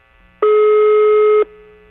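A telephone line tone sounds while a workshop is dialled, one steady loud electronic tone holding for about a second, then cutting off abruptly, with no talk over it.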